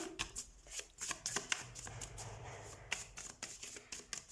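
Tarot cards are shuffled in quick, soft riffling and slapping bursts, close and quiet, with faint background noise.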